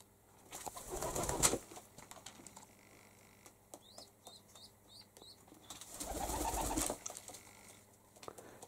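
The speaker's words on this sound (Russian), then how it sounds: "Они воркуют хорошо, породистые голуби." Wild rock pigeons that wintered indoors make two loud bursts of wing flapping a few seconds apart, with soft cooing and faint chirps in the quieter stretch between.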